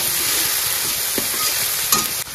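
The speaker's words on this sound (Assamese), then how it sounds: "আমি এইটো দি এইখিনি ভাজি লৈছোঁ" Chopped tomatoes frying with meat in a pan, a continuous sizzle with a couple of soft spoon knocks and stirring scrapes, close and steady until a sudden cut at the end.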